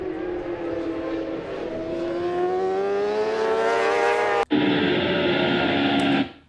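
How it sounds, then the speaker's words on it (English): A trackday motorcycle accelerating too early into a corner at Paddock Hill, its engine note rising steadily and loud, then cutting out briefly before resuming at high revs. "Now here, I can hear you're already accelerating."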